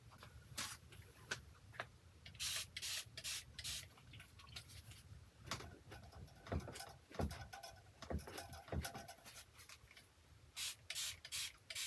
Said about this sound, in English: I'm going to spray it and blot it right away